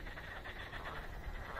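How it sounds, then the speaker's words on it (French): A dense chorus of frogs and toads croaks continuously outdoors, a steady, loud, rattling wall of calls with no speech. "c'est les grenouilles, c'est les crapauds."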